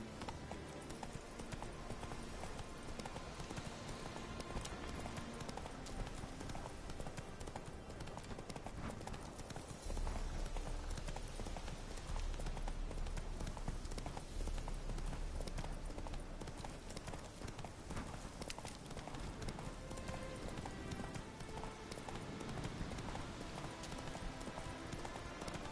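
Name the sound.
horse hooves galloping, from video game The Witcher 3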